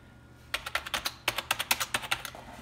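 Typing on a Japanese IBM Aptiva keyboard: two quick bursts of crisp, close-miked keystrokes in an even rhythm, with a short pause between them.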